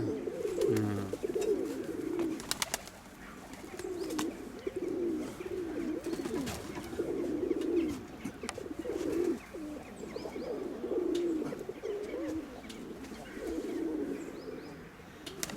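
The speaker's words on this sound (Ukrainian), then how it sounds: "Захарич, ну а ви завжди таких голубів тримали?" Pigeons coo in repeated low, throaty rolls at a steady rhythm, with some flapping and rustling sounds mixed in nearby.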